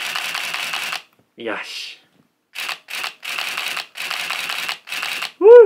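A Nikon F100 film camera fires its shutter in several rapid motor-driven bursts of sharp, close mechanical clicks separated by short pauses. A brief spoken exclamation cuts in near the end.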